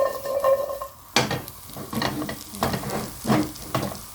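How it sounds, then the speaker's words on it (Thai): A metal spatula scraping and clanking against a hot wok over high heat with steady sizzling, in repeated stirring strokes, close by. "เราเร่งไฟนะคะ แล้วก็คั่วกระทะไปเลยค่ะ"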